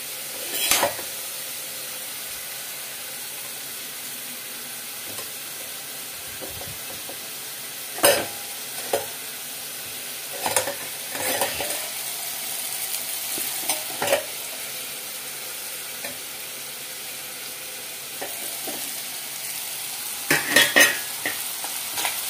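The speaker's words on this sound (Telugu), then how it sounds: "టమాటాలు అయితే వేగనిద్దామండి. సో చూసుకుందామండి, టమాటా కూడా వేగిందేమో." Tomatoes sizzle steadily in a hot pan while a spoon stirs them, with scattered scraping and clinking of utensil against metal throughout, close and clear with no talking.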